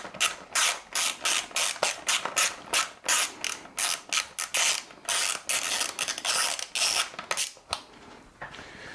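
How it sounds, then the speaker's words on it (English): A ratchet wrench undoes 10mm bolts on the air box of a Yamaha R3 motorcycle, making rapid, close clicking bursts in a steady back-and-forth rhythm with brief pauses. "So you simply have to undo these two bolts."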